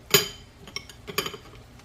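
A whisk knocks and clinks against a pot while flour goes into softened vegetables for broccoli cheese soup, making a few sharp metallic taps, close and moderately loud, with no voices.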